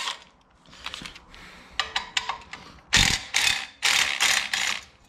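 Ratchet wrench loosening bolts on a BMW G310 motorcycle exhaust, a set of quick clicking pawl bursts growing louder and closer, ending in several long rapid ratcheting runs with short pauses between them.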